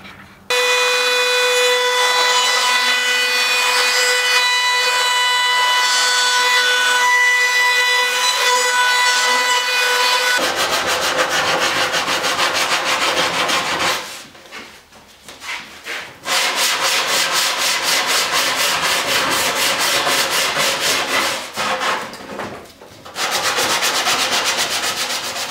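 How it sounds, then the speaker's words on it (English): A laminate trimmer fitted with a small roundover bit routs a sharp wood edge during a PT11 build, producing a loud, high whine with heavy rasping cutting noise and brief dips where the tool lifts off. "we're just going to take the little roundover bit and the laminate trimmer and do that"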